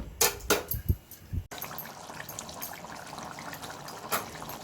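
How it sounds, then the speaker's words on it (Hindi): Water poured in small amounts into a pan of mushroom curry as it cooks, with a few splashy bursts up front followed by a steady bubbling, sizzling simmer. "आउ अल्प अल्प पानी दबा, मरिया पानी पानी दबा"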